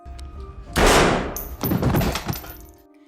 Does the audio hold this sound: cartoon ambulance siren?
no